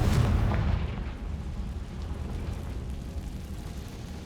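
In the Hogwarts Legacy video game, a Confringo fire spell bursts in a heavy, rumbling explosion at the start, followed by a low crackling rumble that slowly fades.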